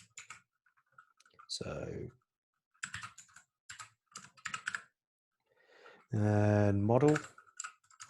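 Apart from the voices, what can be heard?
typing on a computer keyboard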